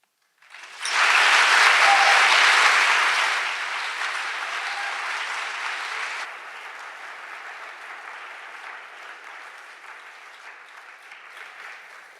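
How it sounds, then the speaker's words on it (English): Large audience at a civil rights legacy event applauding young theater performers, a loud full burst of clapping that swells quickly, then gradually fades and thins over about ten seconds. "Please give another hand of applause to the young performers from the Rainbow Theater"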